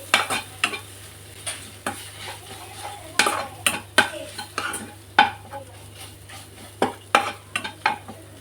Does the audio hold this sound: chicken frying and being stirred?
yes